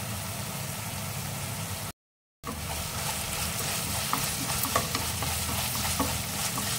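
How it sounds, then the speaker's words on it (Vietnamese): Meat filling seasoned with soy sauce, sugar and MSG stir-fried in a pan, a continuous loud sizzle with scraping stirs, briefly cut off by a gap of silence before resuming. "mình xào cho nó chín thịt thì mình mới cho hành lá vô nha"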